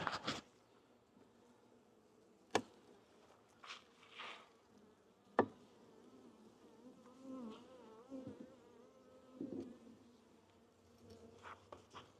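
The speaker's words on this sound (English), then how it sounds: "there's quite a few bees here" Intermittent honeybee buzzing drifts in and out around an old feeder, close at times, with a few sharp knocks and handling noises between the buzzes.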